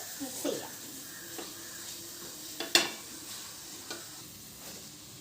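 Ginger garlic paste frying in a pan for a Kerala-style crab roast, a soft steady sizzle broken by scraping stirs and an occasional sharp clink of the spoon.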